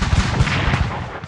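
Dense, continuous volleys of defensive gunfire in a strategy video game battle, loud rattling shots overlapping with booming low thuds throughout.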